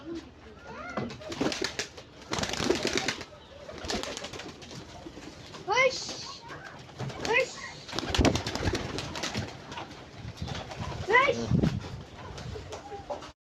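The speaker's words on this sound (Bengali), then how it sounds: "আমি কবুতর গুলা ছেড়ে দিই" Pigeons just let out of their coop coo softly in short repeated phrases between rustles and bumps. The birds are close, and a person talks intermittently over them.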